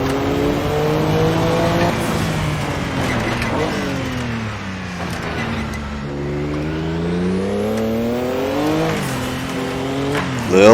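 A Porsche 962C race car engine in a sim racing video game, loud and close, with rising and falling harmonic revs through repeated gear shifts and a sweeping climb near the end, continuous and without voices.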